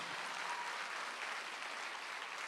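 Church congregation applauding during a Sunday worship service, a faint, even wash of clapping that holds steady from start to finish.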